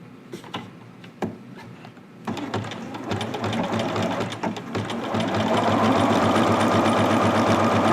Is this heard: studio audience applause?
no